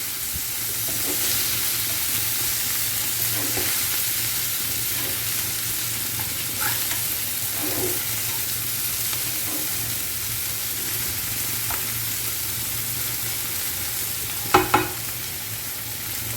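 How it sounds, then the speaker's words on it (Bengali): Tomato and onion stirred and fried together in a pan while cooking lote fish, a continuous close sizzle broken by occasional soft spoon scrapes and a sharper clatter near the end, with nobody talking. "এবার টমেটোটাকে পেঁয়াজের সাথে আবার ভালো করে একটু নাড়াচাড়া করে ভেজে নেব"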